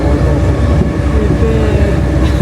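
Steady, loud rumble of a Paris metro train at a station, a continuous dense roar of wheels and motors with no clear breaks.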